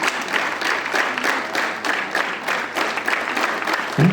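Students at a school morning assembly clap together in unison, a dense, steady patter of many hands that holds at even loudness, with faint voices mixed in.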